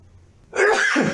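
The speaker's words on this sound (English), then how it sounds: "It made me sneeze and changed my voice." A single abrupt sneeze bursts out after a moment of near silence, close and fairly loud.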